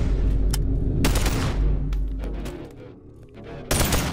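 Loud gunfire from a gun in the VR game BoneLab, several close, sharp blasts and bursts with reverberant tails spread across a few seconds, the last shot landing near the end.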